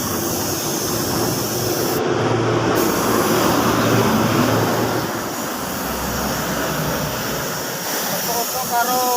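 Spray gun applying candy red paint to a motorcycle body panel, a steady close hiss of atomized spray running continuously under the air-compressor rush, with a brief pause partway and speech over it.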